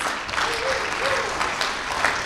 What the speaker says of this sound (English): give him a round of applause, everyone, please